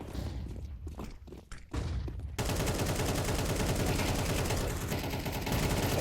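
Mag 7 shotgun and other gunfire in a competitive video game match: scattered sharp shots at first, then a dense, loud, continuous burst of rapid fire.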